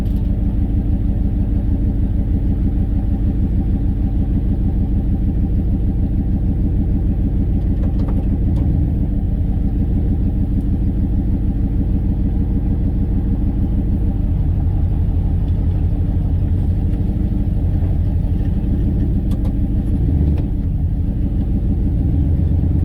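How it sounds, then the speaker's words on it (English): Heavy trucks roll past on a frozen rural road, a steady low engine rumble and tyre drone that stays loud and near throughout with no talk. "Park in here for a second, let those trucks go by."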